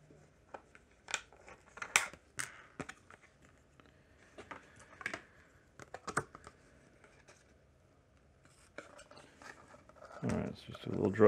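Snips of scissors cutting an HPI Venture RC truck body for an inner fender mod, a series of short crisp cuts spread out, fairly faint and close, with some handling noise near the end.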